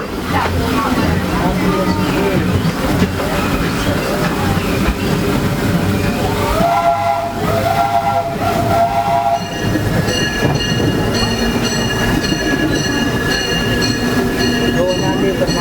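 The Disneyland Railroad steam train rolls through Fantasyland with loud rumbling and rattling cars and a sustained whistle blast midway, plus further bright tonal sounds later, under a narrator's voice.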